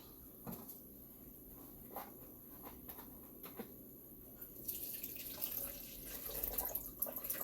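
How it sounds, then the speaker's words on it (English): Water poured from a tap into the bottom of a plastic pop bottle planter, a faint trickle that swells into a louder splashing fill in the last few seconds after a few soft knocks. "is to fill the bottom with water."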